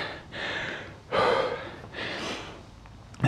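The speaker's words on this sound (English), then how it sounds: "the breathing rate for me is right up" Heavy, rasping gasps for air from a rower right after a one-minute maximum-effort interval on a rowing machine, several long loud breaths in and out, close up with no talking.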